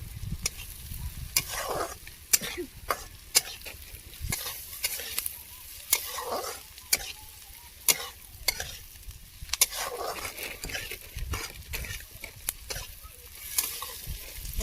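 Onion roasting in a hot pan, stirred with repeated sharp scraping clicks of a spatula over a continuous close sizzle, the strokes irregular but frequent throughout, no voices.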